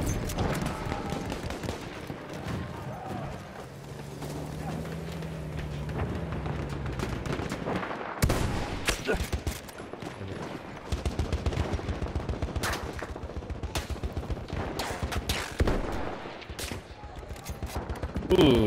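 Battlefield 3 game combat with sniper fire and bursts of gunfire, dense repeated shots and blasts layered through a busy battlefield mix, with a voice talking at times.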